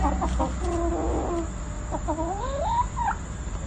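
Farm chickens clucking close by, a hen's repeated short clucks and rising, warbling calls carrying over steady background noise, no talk.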